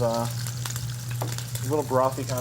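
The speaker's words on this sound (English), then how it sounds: "So as part of this, so we're cooking the bacon." Bacon crackles and sizzles in a pan in a restaurant kitchen, a steady close frying hiss beneath a voice that sings or talks over it.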